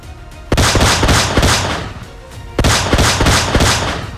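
Pistol fire in the fighting video game DNAVERSUS: loud, sharp shots in two bursts, each opening with a strong crack followed by a quick series of rapid reports that fade off.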